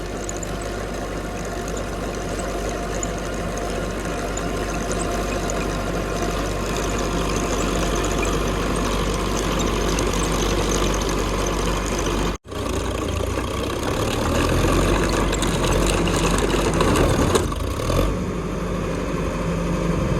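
A heavy 60-horsepower tractor engine runs steadily with a low rumbling drone for the whole stretch, briefly cutting out before resuming with a rougher, revving tone.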